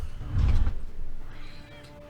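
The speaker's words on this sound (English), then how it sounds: "My cat wants to say hello to the camera." A house cat gives a short, low meow up close, then a fainter, drawn-out second call, with light household noise around it.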